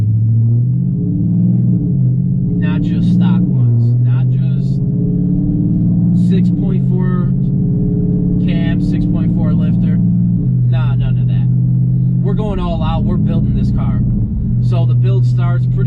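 A Dodge Charger 392 V8 with a lifter tick fault rumbles at a steady, deep, loud idle close by, while someone talks over it throughout.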